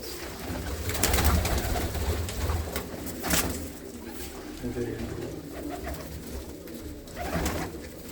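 Pigeons coo in low, steady rolling calls close by, with several birds overlapping, while people talk quietly in the background.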